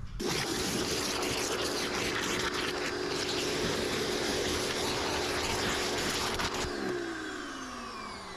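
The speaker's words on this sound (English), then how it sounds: "use our pressure washer lance, get this soapy" A pressure washer lance sprays soapy foam over a ceramic coated car, a loud continuous close-up hiss of spray over a motor drone that fades as the spraying stops near the end.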